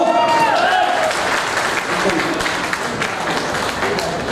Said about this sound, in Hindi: जोर से तालियां बंदो।